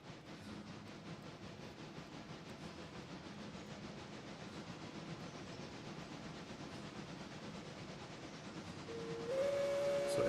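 In the railroad game Railroader, a steam locomotive chuffs and hisses steadily at low level, then its steam whistle sounds near the end, a sustained tone that swells over the continuing train noise; no one speaks.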